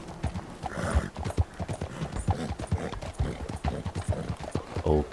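Horse hooves clip-clop steadily on a town street in the Red Dead Redemption 2 video game, a dense rhythmic stream of hoofbeats with occasional snorting amid busy traffic of horses and carriages.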